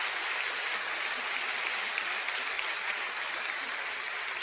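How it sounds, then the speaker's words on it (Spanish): Applause from a church congregation during a sermon, a steady, dense wash of many hands clapping that holds at an even level throughout, with no talk. "Denle un aplauso al Señor"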